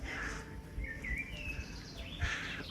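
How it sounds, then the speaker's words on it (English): Birdsong rings out in a quiet forest near Hallstatt, Austria, a few bright chirps and warbling phrases at moderate distance, with no talking. "If I shut my mouth, you'll hear all the birds."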